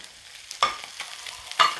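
Crushed dried chillies and curry leaves hit hot oil in a pan of frying fish, giving two short bursts of sizzling and stirring, close and moderately loud, with no voices.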